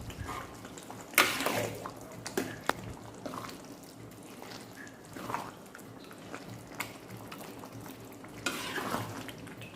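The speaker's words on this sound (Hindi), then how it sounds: "धनिया को अभी 1 मिनट के लिए हम ऐसे पकाएंगे" Coriander cooking into a kaddu gosht of pumpkin and meat: a quiet, steady simmering hiss broken by scraping stirs and clinks of a spoon against the pot, with a few louder stirring bursts.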